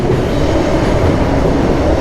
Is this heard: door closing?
no